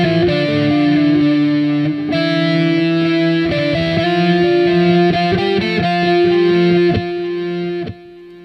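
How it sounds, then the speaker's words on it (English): Heavily distorted electric guitar lead with a delay effect, sustained tones and picked notes ringing loud and steady for about eight seconds, dense buzzy overtones throughout before the sound cuts off near the end. "It's a side effect of the distortion that we're adding."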